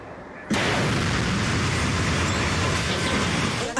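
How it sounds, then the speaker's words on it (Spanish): A dynamite blast at night in Guayaquil's Bahía commercial district bursts in suddenly and loud, then roars on as a broad, sustained rumble for several seconds. "la explosión de una dinamita sacudió el corazón comercial de Guayaquil"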